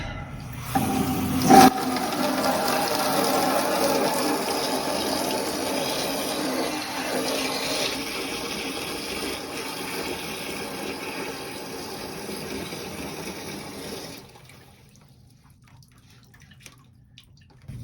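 Water gushes from an opened drain valve on a hot water heater into a bucket, a loud steady splashing rush after a sharp clunk near the start, which cuts off abruptly at about fourteen seconds, leaving near quiet.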